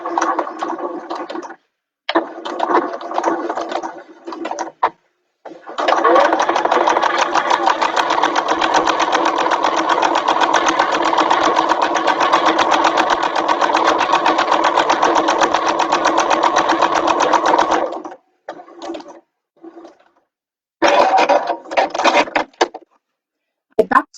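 Sewing machine stitching a bag, with short bursts of stitching, a long continuous run of rapid stitching in the middle, then more brief bursts separated by pauses.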